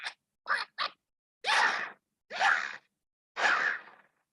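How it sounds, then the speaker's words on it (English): Six quick whooshing, breathy bursts from Angry Birds as a bird takes off: three short chirpy ones, then three longer sweeping swishes, each separated by silence, like a cartoonish launch sound. "this was a sound of Angry Bird taking off, flying in the air"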